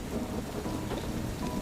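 A heavy rainstorm with thunder makes a dense, loud wash of rain and a low rumble that hold steady throughout.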